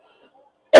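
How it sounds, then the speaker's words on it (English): One sudden, harsh cough bursts out close and loud after a near-silent moment with faint murmuring beforehand. "I still got a nagging cough"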